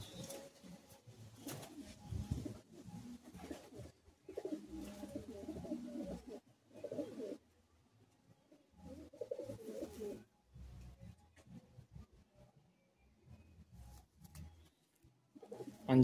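Pigeons coo softly in a loft, a series of low murmuring calls repeated in uneven bursts with quiet gaps between them, faint and nearby.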